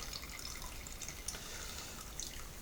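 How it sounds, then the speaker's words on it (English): Hot liquid drains from brewing grain into a pan in a home kitchen setup, a faint steady trickle with scattered small drips and splashes, quiet and continuous with no talking. "You could let that drain right out."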